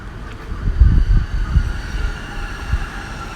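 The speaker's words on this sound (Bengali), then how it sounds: "স্টেশনের কাছে ট্রেন আসছে।" A train is pulling into a station in Japan: a steady low rumble of cars rolling, with soft thumps of wheels at rail joints, heard at moderate distance with no talk.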